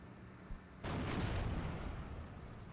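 A Panzer IV tank fires its main gun in the Steel Division 44 war game, a single loud boom that hits abruptly and then rolls on as a sustained rumble with no one talking.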